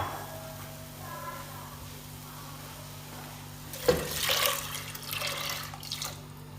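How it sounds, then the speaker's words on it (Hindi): Water pours into a cooking pot of lentils and beef for shami kabab, a sudden splash at about four seconds followed by a few seconds of sloshing, filling sounds over a steady low hum. "अब इसके अंदर हम ऐड करेंगे पानी।"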